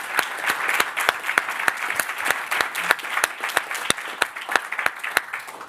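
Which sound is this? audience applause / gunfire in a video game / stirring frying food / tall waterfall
audience applause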